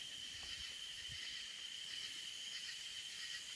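Crickets and cicadas chirp at night in rural northeast Texas countryside, a steady high-pitched insect drone filling the air continuously and evenly, faint and distant with no voices.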